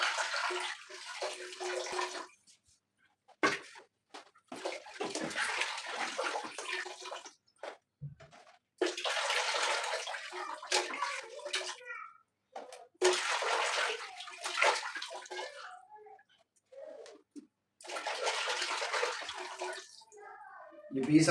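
Raw chicken pieces dipped and washed in a pot of water, repeated bursts of splashing and sloshing separated by short pauses, close up, with a voice talking between them.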